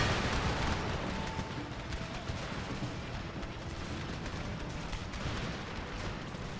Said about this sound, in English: did they just throw a bunch of grenades there?